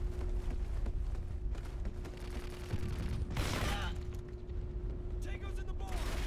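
Call of Duty: Ghosts gunfire crackles in short bursts of rapid shots, fairly faint, with a louder volley midway and more distant pops near the end.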